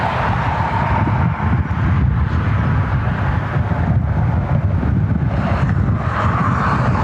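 Strong wind roaring across the microphone at an airport plane-spotting spot, a dense, constant low rumble with slight surges throughout, loud and unbroken, no voices.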